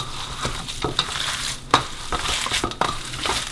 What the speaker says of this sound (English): give that a good mix as well